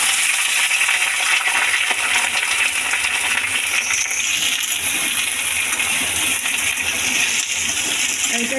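Pumpkin, potato and taro pieces frying in a little oil in a pan, giving a steady, close, broadband sizzle and crackle throughout with no talking.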